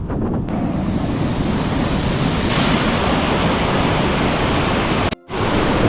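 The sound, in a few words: Josephine Falls waterfall, Cairns, Australia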